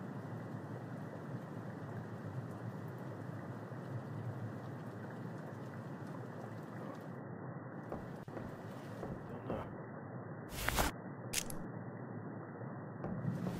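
Heavy, steady rain roars through a stormy night in the horror game The Mortuary Assistant, a dense wash of downpour with brief sharper bursts near the end that may be rumbles or gusts, and no talking.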